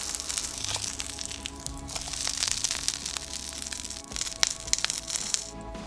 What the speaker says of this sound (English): then lay it into the sizzling pan.